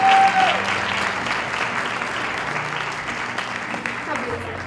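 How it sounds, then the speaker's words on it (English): A cheering crowd and applause sound effect, dropped in after a small controlled fire is lit for s'mores, plays loud and steady throughout, as a broad wash of clapping and cheers. "let's add the cheering sound effect"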